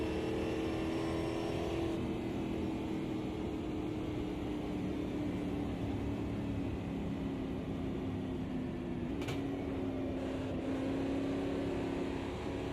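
A stock V8 race car engine drones steadily and loud from inside the car as it laps an oval track, a constant roaring hum that holds throughout with only slight shifts in pitch.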